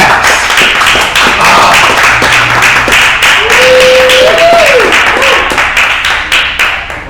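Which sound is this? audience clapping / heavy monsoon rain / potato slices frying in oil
audience clapping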